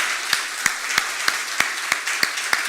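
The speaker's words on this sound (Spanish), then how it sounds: "Dele un aplauso al Creador" A church congregation claps together in a steady, even rhythm, with sharp unison claps repeating about three times per second over a light wash of scattered applause.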